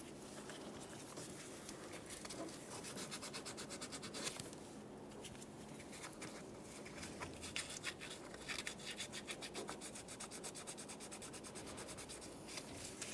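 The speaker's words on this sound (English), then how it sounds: "If it looks like it needs to be cleaned up, go ahead and use some fine sandpaper." Fine sandpaper rubs a starter power wire on a 1994-1997 Honda Accord, giving a soft, continuous rapid scratching that stays faint and close throughout.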